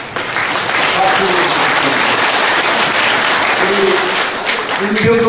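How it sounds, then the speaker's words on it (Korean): Audience applauding veterans of the Korean War at a gathering, steady dense clapping filling the whole stretch at close range, with faint voices and brief tonal sounds underneath. "이분들한테 박수를 보내주십니다"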